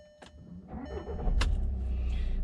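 Close inside a 2015 VW Golf TDI, a short starter whir leads into the diesel engine catching. A low rumble builds and holds steady for the final second.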